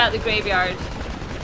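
Gunfire in Red Dead Redemption: Undead Nightmare, heard as a brief burst of rapid shots under a spoken line in a graveyard zombie fight.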